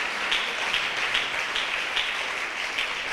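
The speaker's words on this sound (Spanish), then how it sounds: "Dale ese aplauso fuerte al Señor." Church congregation applauding, a steady rhythmic clapping at an even pulse, somewhat distant and moderate in level, with no speech over it.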